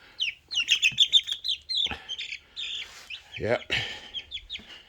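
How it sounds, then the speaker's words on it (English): Chicks chirping inside a chicken coop as they are moved in, a busy run of high, rapid peeps and tweets that carries on through the clip, with a brief spoken word partway through. "today I'm putting the chicks in the chicken coop for about an hour"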